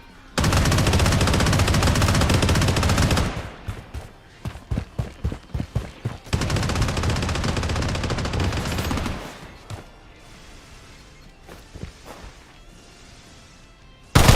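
Gunfire in the video game Bloodstrike: a long loud machine-gun burst, then scattered single shots, another sustained burst, and faint sporadic pops before a final sharp blast.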